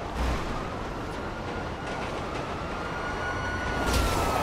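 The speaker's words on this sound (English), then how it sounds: "Uh-oh. Train." A train passes in the GTA Online video game, heard as a loud, steady rumble and roar with some clanking, continuous throughout and swelling slightly near the end, with no voices.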